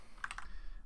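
A few quick keystrokes on a computer keyboard, soft clicks in a short burst against a quiet room.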